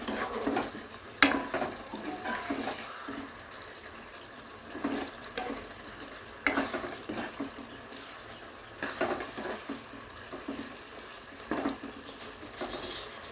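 Egg masala gravy curry simmering in a pan until the oil rises, with soft bubbling and occasional stirring scrapes and clinks, steady and close with no talking.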